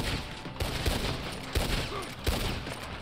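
Gunfire in Red Dead Online cracks out as several sharp shots at irregular intervals, a couple loud and close, over a busy noisy game backdrop.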